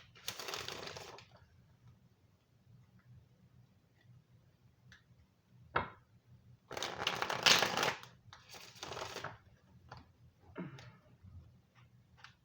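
Stargazing Oracle cards are shuffled in two main bursts of crisp, riffling card noise, with light taps and ticks scattered in the quiet between them.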